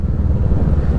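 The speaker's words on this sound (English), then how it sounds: "That Yoshimura is popping, boy." Yoshimura exhaust on a 2024 Kawasaki Ninja 650 motorcycle, a brief burst of low, rumbling engine burble with rough popping texture, loud and close, alone without talk.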